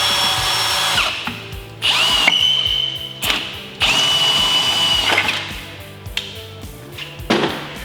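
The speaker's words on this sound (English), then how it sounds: "push the armor in towards the Jeep and drill this bottom hole here" A power drill bores a hole through aluminum rear corner armor on a Jeep JK, several bursts of whining, loaded drilling separated by short pauses, close and loud.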